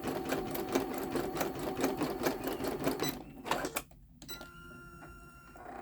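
A Janome Memory Craft 10001 embroidery machine stitches with a fast, steady mechanical chatter, then pauses briefly and settles into a quieter whir and hum.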